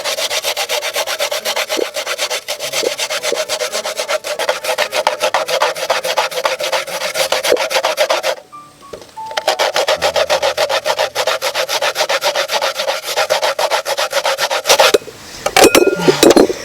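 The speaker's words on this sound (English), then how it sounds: "This is the finest side of the grater." Coconut rubbed hard over the finest side of a hand grater, a loud, continuous close scraping rasp that stops briefly midway and resumes, with no talking.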